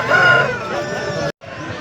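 A rooster crows amid the bustle of a Sunday hen market at Pileru, the call loud and close over crowd babble, followed by a brief cut to silence and the market hubbub again.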